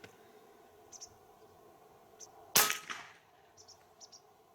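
A Hatsan AT44 Long 4.5 mm PCP air rifle fires a single sharp, loud crack with a brief tail, set against quiet room tone and a few faint small clicks before and after.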